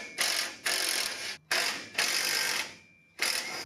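Several short bursts of a power tool spinning off bolts on an Early Bronco, loud, close and ratcheting, each lasting about half a second with brief gaps between them.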